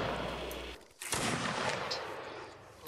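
Musket shots ring out across a Napoleonic Wars battlefield in Mount & Blade: Warband, a sharp nearby report after a steady background hum, followed by scattered distant firing.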